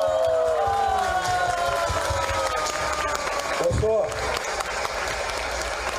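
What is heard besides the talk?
audience applause at a political rally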